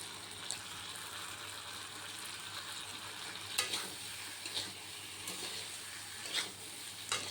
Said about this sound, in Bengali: এবার ভালোভাবে নেড়ে চেড়ে নেব